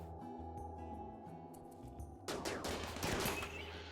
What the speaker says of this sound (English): Oh, we have these 3 fine folks who are going to shoot the target.